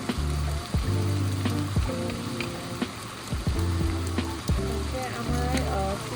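Bay leaf, cinnamon and cardamom sizzle steadily in a hot pan while making chicken samosa, a loud continuous crackle under a speaking voice throughout.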